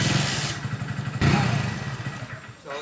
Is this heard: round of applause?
no